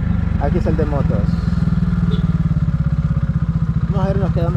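Motorcycles pass along a town street in Juticalpa, Olancho, Honduras, giving a steady close engine rumble with rising revs, while someone talks over it throughout.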